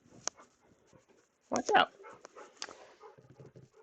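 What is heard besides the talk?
dog whimpering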